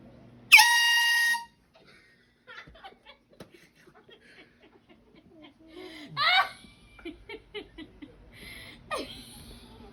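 An air horn blasts loudly for about a second as a prank on a dad at home, followed by quiet stifled laughter, snickers and soft speech.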